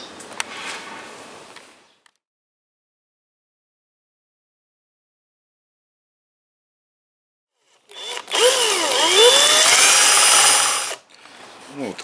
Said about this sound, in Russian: Просверливать сейчас будем прямо здесь в углу.